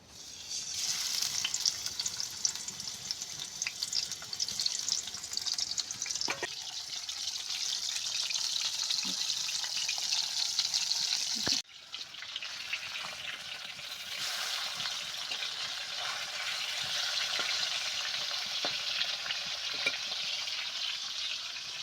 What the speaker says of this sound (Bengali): তেল গরম হয়ে গেছে এবারে মাছের পিসগুলো আমি দিয়ে দেবো